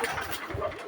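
Pigeons feeding from scattered food at a loft with eggs and chicks give soft, low coos, close and moderately loud, mixed with faint scuffling and a short louder burst near the end.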